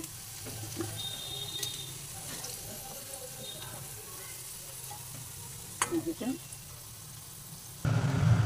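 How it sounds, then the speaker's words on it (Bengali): Jackfruit and potato pieces frying in oil give a low continuous sizzle with a few scraping stirs, then a louder burst of bubbling near the end; no voices. "দেখুন কাঁঠাল ভাজা হয়ে গেল, আলুও ভাজা হয়ে যাচ্ছে।"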